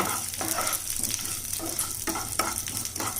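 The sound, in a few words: mustard seeds, urad dal and dried chillies frying in oil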